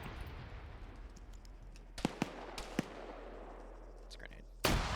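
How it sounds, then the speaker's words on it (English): A grenade goes off in the Arma 3 military shooter, a sudden loud burst near the end following several sharp cracks of gunfire over a low hiss of background noise. "It's a grenade."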